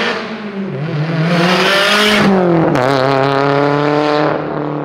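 Subaru STI with a Tomei single-tip exhaust, engine revving loud and close with rising harmonic tones that climb, drop at a gear change, then climb again before easing off.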